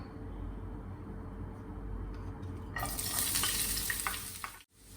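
Sliced onion drops into hot coconut oil for Kerala-style pepper chicken and sizzles loudly. Steady background frying jumps to a bright crackle about halfway through, with no talking.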